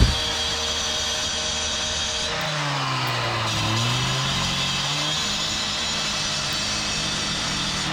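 Saw with a diamond blade cutting through steel rebar mesh, a loud continuous grinding whine with the motor pitch dipping and rising as the blade bites and frees, running steadily throughout with no talk.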